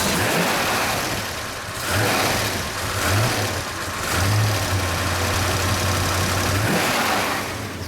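A 1970 Ford Mustang Boss 302 V8 runs with a loud, rough idle, swelling in a few blips of throttle between steadier low rumbling stretches, close by and unaccompanied by talk.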